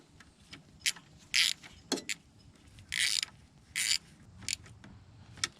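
A nut is tightened onto the alternator terminal of a Nissan Rogue, giving short, irregular bursts of close mechanical ratcheting with brief pauses between them.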